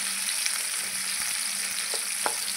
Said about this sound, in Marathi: हिरवी मिरची पण चांगली आपल्याला तिचा तिखटपणा जाईपर्यंत मस्त फ्राय करून घ्यायची आहे